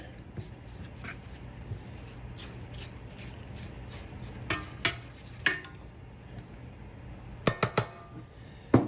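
Bowl scraped while mixing piña colada bread batter, a series of light clinks and scrapes repeating across the clip, with a few sharper, louder knocks near the end over a low steady hum.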